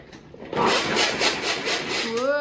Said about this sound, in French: je vais commencer avec pas l'oignon, mais bien l'ail, ici que je vais hacher dans mon extra chef